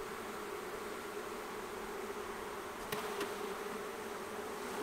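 Honeybees buzz in a steady, fairly faint drone as a frame is shaken into a small hive, with a couple of brief knocks near the end.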